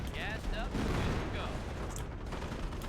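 Artillery in Company of Heroes, a World War II strategy game, fires over a dense wall of battle noise, with sharp booms and gunfire crackling throughout while a voice talks over the action.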